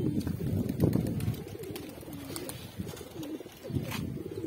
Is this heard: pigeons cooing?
yes